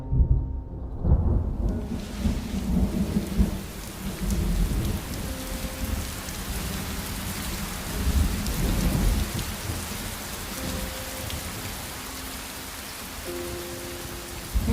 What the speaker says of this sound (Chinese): 又要下雨了。